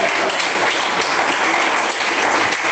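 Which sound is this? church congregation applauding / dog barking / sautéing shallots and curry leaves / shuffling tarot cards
church congregation applauding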